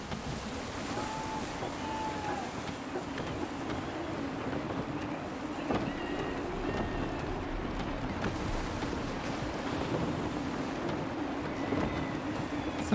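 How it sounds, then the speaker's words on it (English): A sailing ship in Assassin's Creed 3 moves through gusty wind at sea, with a steady rush of wind and water and creaking hull noise, moderately quiet and continuous, with no voices heard. "Wind looks to be shifting. Stay alert, Connor. Gusty winds can be difficult to manage"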